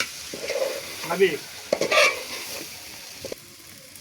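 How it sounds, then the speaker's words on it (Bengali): Spiced rice for khichuri is stirred in a pot at a picnic cooking setup. Scraping stirs and a soft sizzle come in short bursts, with a brief spoken word in between. "মশলা দিয়ে চাল দিয়ে একটু আমরা নাড়া দিয়ে নিলাম।"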